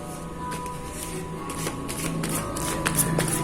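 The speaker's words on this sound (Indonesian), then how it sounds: "kita kocok dulu" A deck of tarot cards is shuffled close by, producing a steady run of soft riffling and flicking card noises with small sharper snaps.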